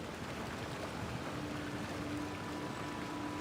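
A waterfall in Genshin Impact gives off a dense, even rush of falling water, a constant broadband roar with no breaks and no voices.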